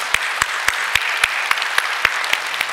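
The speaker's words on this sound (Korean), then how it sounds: "하나님께 우리 감사의 박수 올려드리도록 하겠습니다" A church congregation at a Christmas Sunday and anniversary service claps in a steady, rhythmic unison, sharp evenly spaced claps sounding alone for a few seconds.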